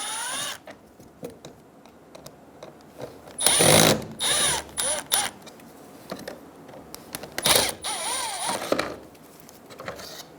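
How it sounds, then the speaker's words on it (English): A ratchet works on the bumper bracket screws of a 2011-2014 Hyundai Sonata, giving short bursts of clicking and whirring at close range with pauses between turns. "Remove the screws for the bumper bracket."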